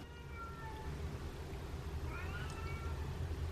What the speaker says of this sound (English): all of a sudden I heard Hydrox meowing